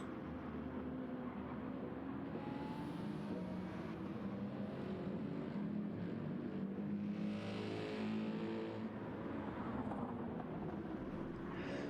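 Race cars bump drafting nose to tail at Daytona in a racing video game, a steady, even engine drone holding at one level throughout, with no talk.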